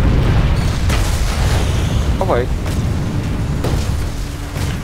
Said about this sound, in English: He's got hit by a Vanguard main cannon.